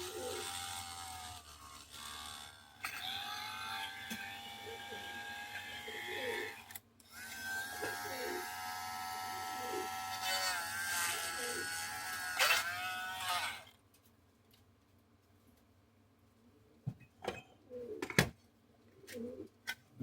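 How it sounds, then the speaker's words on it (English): A Dremel rotary tool works on an SD-24 model locomotive body, whining in a high sustained buzz with pitch bends and pauses for about fourteen seconds before falling quiet apart from a few clicks. "God thank the man who invented Dremel."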